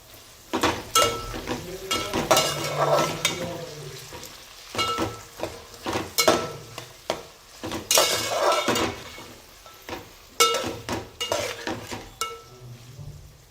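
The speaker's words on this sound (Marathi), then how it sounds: "छानपैकी 5-10 मिनिटं परतू द्यायचं आहे।" Vegetables sautéing in a pot for veg matar pulao, with a steady sizzle broken by repeated spoon scrapes and clinks against the metal pot. No talking, close up.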